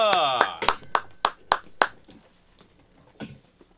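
Studio audience clapping in a talk show ahead of a live song, a series of sharp, evenly spaced claps that thin out and fade, with a voice exclaiming at the start.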